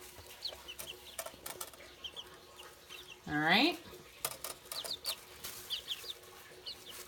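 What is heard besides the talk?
young chickens clucking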